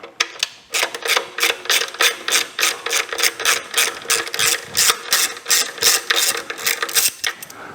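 A ratchet clicks rapidly and steadily while turning Torx screws on an Onan 4000-watt generator, a loud, close run of regular mechanical ticks that continues throughout.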